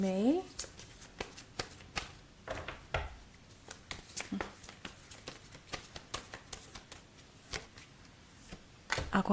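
A deck of tarot cards is shuffled steadily, producing a long series of sharp, uneven riffling clicks close up, with brief bits of voice at the start and end.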